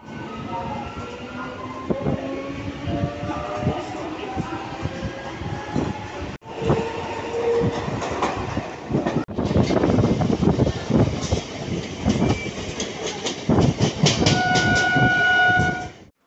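Commuter train ride heard from inside the carriage: a loud continuous rumble with rhythmic clattering of wheels on rail joints, squealing tonal whines and screeches, and a brief break partway through.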